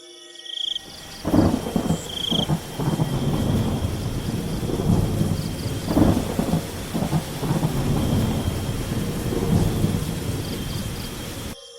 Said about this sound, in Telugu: ఆ రాత్రి భయంకరమైన వర్షం పడుతూ ఉంటుంది.